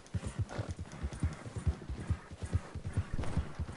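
A horse ridden in the video game Red Dead Redemption 2, with steady rhythmic hoofbeats clip-clopping at a brisk gait, close and continuous, with a brief whinny-like tone early on.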